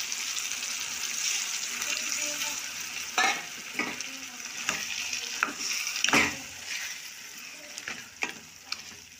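A ladle stirs mashed elephant foot yam curry (karunai kilangu puli kuzhambu) in a pan, scraping and sloshing in several distinct strokes over a soft steady sizzle, close and fairly quiet, with no talking.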